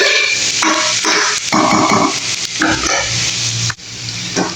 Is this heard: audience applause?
no